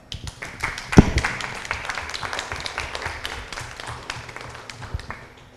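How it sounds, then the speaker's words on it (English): Participants at a project management meeting give a round of applause, scattered close clapping with one sharp clap near the start, then thinning and fading toward the end. "please give yourselves a round of applause"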